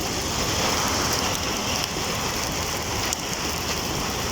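Steady, heavy rain patters down on surfaces in an unbroken wash of drops during a storm with thunder and strong winds, close and loud with no voices.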